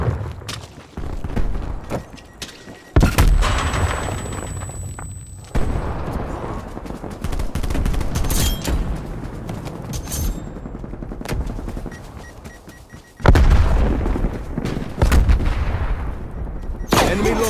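Sniper rifle gunfire in a Call of Duty team deathmatch, sharp cracks and booms in bursts, with heavy loud volleys near the start, middle stretch and end, separated by brief quieter gaps.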